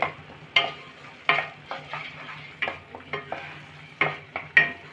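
Ground tomato is sautéed in a pan for a Rohu fish curry, with a soft low sizzle punctuated by repeated scraping strokes of a spoon stirring the thick paste.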